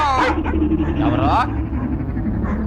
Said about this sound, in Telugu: ఇటు కుక్కలు ఒకదానికోటి పోటీ పడి అరుస్తున్నాయి